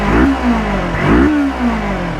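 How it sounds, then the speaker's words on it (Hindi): Kawasaki X 300 motorcycle exhaust revved twice in quick succession, each blip rising sharply then falling back to idle, close and fairly loud with no voices. "आपको एग्जॉस्ट की साउंड सुना देता हूँ"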